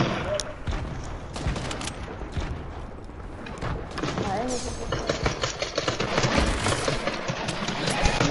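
Hunter rifle gunfire in a PS4 video game crackles through repeated sharp shots and scattered bursts at moderate volume, mixed with game noise over a continuous busy background.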